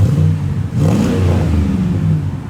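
Loud, steady engine drone from a 2003-2006 Chevy Silverado SS with a 6.0L V8 and Magnaflow exhaust, a brief dip near the start then a deep, sustained rumbling rev held close up, no talking.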